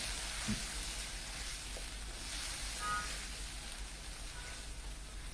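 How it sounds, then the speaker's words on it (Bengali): Onion and green chili paste fry in mustard oil, giving a low, steady sizzle heard close with a faint clatter at the end. "পেঁয়াজ কাঁচামরিচ পেস্টটা আমি দিয়ে দিয়েছি এটা একটু বুনে নিতে হবে"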